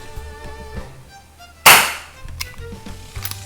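A single sharp crack from a KWC Cybergun Colt Python airsoft revolver firing a 0.2 gram BB, close and loud, its burst decaying over about half a second against a quiet room.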